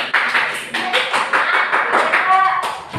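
Rhythmic finger tapping and clapping in a classroom counting game, a steady series of sharp taps close by with children's voices chanting along.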